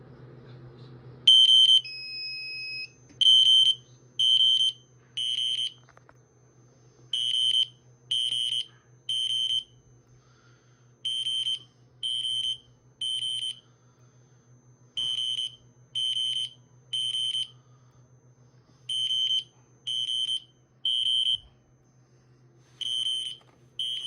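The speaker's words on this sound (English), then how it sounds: "that's what it sounds like on FWR 3000 hertz" A 3000 hertz tone on an FWR siren sounds as sharp repeated electronic beeps in quick clusters of three or four, loud and piercing over a faint low hum, with no voices.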